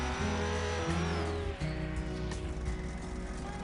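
A drag racing car engine in a video game revs hard, a loud, close, buzzing roar with rising and shifting pitch, dipping briefly midway before continuing strongly.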